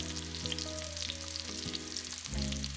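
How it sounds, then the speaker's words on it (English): Steady frying sizzle of pretzels searing in a hot frying pan, continuous and close, with a few soft clicks and shifts as the pretzels are moved around. "Now I'll sear the pretzels in a frying pan for a better texture on the bottom."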